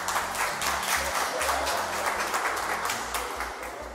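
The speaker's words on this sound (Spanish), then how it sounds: "un aplauso para ella, bien fuerte." A crowd at a family magic show in Zapatoca claps steadily for a few seconds, dense applause under music with a low beat.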